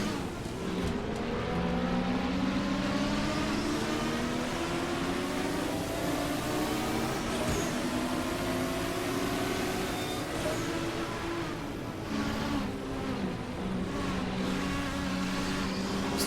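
A BMW M1 race car engine in the Assetto Corsa video game, racing at Spa, drones steadily at high revs, its pitch sliding slowly up and down, loud and continuous throughout.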